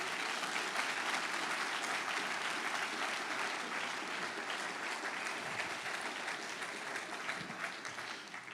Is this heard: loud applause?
yes